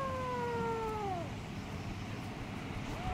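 A cat meows close by: one drawn-out, falling meow, then a second short meow begins at the very end, over a low background hiss.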